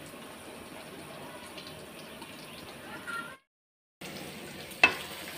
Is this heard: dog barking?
no